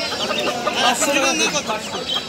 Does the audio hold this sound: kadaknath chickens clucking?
yes